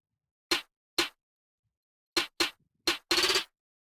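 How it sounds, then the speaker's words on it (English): Six sharp snare hits in a UK drill snare roll, widely spaced at first and then bunching together into a quick rattling burst at the end, loud and dry with no talking. "Then I added a snare roll,"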